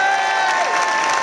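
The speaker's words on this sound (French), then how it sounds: "On applaudit chaleureusement le président de Radio Émotion" An audience at a Radio Émotion concert applauds and cheers the station's president, a loud, dense wash of clapping and crowd noise with a few high shouts or whistles.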